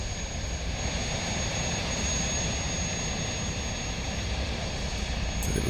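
A large airliner's engines spooling up for takeoff in Transport Fever 2, a loud, steady roaring jet drone with a faint high whine running on top, no talking.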